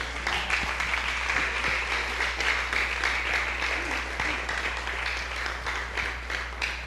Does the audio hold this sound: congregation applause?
yes